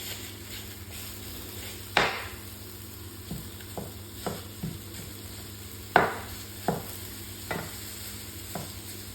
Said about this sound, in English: So just going to break the mince up first and foremost.